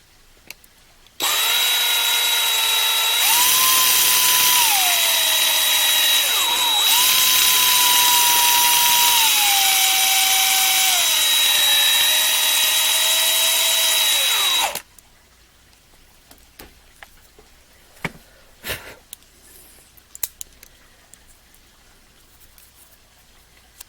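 A loud, sustained drill whine runs for about fourteen seconds with slight pitch dips as it bears down, drilling metal off a diecast NASCAR model car, then quiet handling clicks follow.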